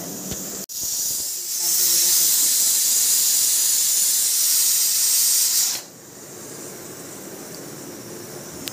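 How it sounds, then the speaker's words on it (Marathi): A pressure cooker cooking dal lets out a loud, continuous steam hiss that builds after a sharp click, holds for several seconds, then drops to a softer steady hiss. "इकडे डाळ कुकरमध्ये लावली."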